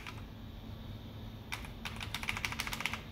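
Keys clatter on an NEC PC-9801UV2 computer keyboard: after a quiet stretch of low hum, a quick run of close, crisp key presses with uneven rhythm fills the last half of the clip.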